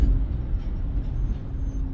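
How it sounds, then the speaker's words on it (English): A large truck passes nearby on a busy freeway, its heavy low engine rumble and road roar loud and steady throughout, with no speech. "Look at this truck."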